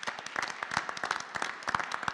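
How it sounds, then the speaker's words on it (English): A school board meeting audience gives a brief round of steady applause, many hands clapping together at moderate loudness for about two seconds. "so if you would humor me in allowing us a round of applause for Ms. Sammy Love,"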